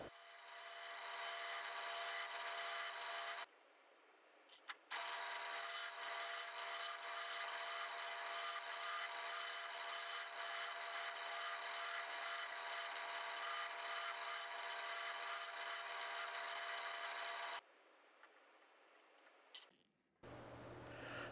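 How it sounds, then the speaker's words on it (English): Hand filing of a metal rivet for a blacksmith-made padlock pin and back plate, a fast, close rasping run of strokes that stops briefly after a few seconds, resumes, then ends with a few scattered clinks. "I'm going to start filing the rivet that's going to rivet the pin to the back plate"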